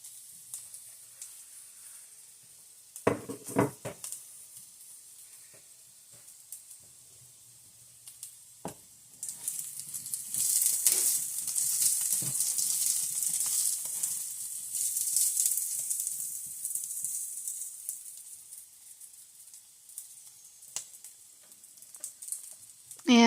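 Potatoes and onion sizzle in a frying pan, a soft steady hiss that swells louder midway and then eases, broken by a few sharp clatters of utensils against the pan.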